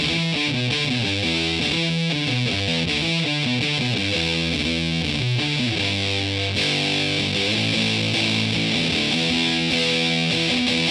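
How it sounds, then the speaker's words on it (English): A heavily fuzzed electric guitar plays continuously, its thick, saturated tone buzzing loudly through a steady riff without pause. "And finally, there's fuzz, which is, again, just more amplified than distortion."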